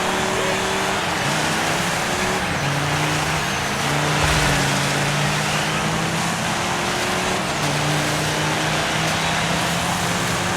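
Racing car engines in Dirt 5 drone under a dense wash of gritty road and crowd-like noise, with a steady, loud engine tone that shifts pitch now and then across the race.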